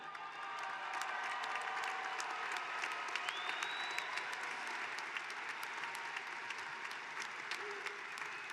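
Graduates at a spring commencement ceremony receive a sustained round of applause from a large crowd, an even, distant-sounding wash of clapping that holds steady without a break.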